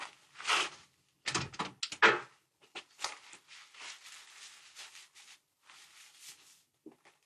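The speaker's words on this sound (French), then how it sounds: "Ferme la porte, Omane." A door is pushed shut indoors with a few close thumps and rubbing knocks, followed by softer scraping handling sounds, with no talk over them.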